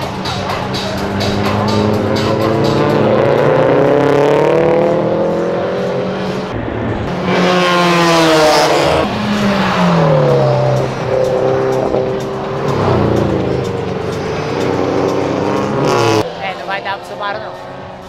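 Rally cars, a Citroën DS3 and a Subaru, racing on a track, engines revving hard and rising in pitch through gear changes as they pass close by, loud and continuous, with people talking over the noise.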